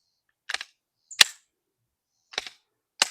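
A 9mm pistol fires four sharp cracks, spaced unevenly at close range with short decays and silence between them.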